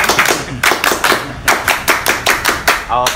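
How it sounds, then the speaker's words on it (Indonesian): Scout-style group clap done in unison, a loud, close series of sharp rhythmic claps in patterned bursts with short pauses between them, ending on a quick flurry. "Eh, tepuk tangan pramuka dulu ya."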